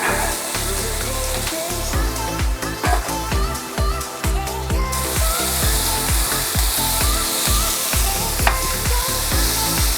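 Orange-glazed steak strips and vegetables, including mushrooms, stir-fry loudly in a hot pan, giving off a steady dense sizzle broken by rapid clatters and scrapes of stirring, close and continuous with no talking.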